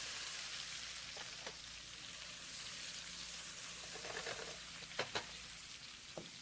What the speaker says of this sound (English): We are going to add our gnocchi to our pan.